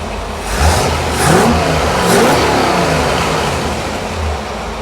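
A freshly rebuilt Ford 390 FE V8 car engine runs loud and close, rumbling steadily at idle with a couple of brief revs rising over it.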